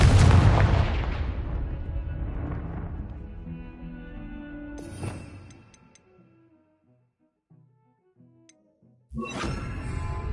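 A Confringo blasting spell cast in the video game Hogwarts Legacy bursts with a loud, booming crack that decays into a rumbling tail, followed by a quieter impact and a later sharp burst.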